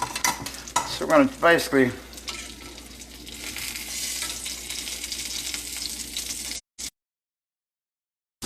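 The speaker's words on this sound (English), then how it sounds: "I'm gonna let them cook just a little bit longer." Wild mushrooms fry in a pan with cayenne, black pepper and garlic, giving a steady close sizzle while a utensil stirs and scrapes; someone speaks briefly over the cooking at the start.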